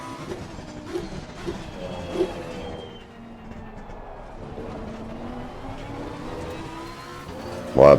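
Race car in the sim game Assetto Corsa Competizione at the Red Bull Ring, a steady engine drone with rumble and tyre noise as it slides off the track, a loud thump at the very end.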